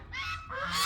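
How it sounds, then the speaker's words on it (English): Loud, close geese honking in two harsh bursts, the second louder and more strident, over faint background noise. "The geese are being obnoxious."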